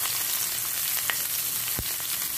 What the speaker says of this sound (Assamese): মিডিয়াম ফ্লেমত ফ্রাই করে আছো।